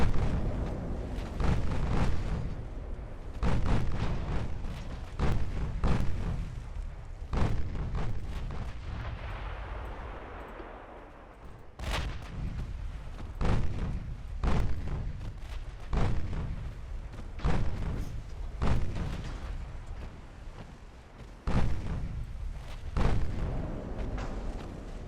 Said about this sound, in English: Let's just start opening fire on the heavy cruiser then.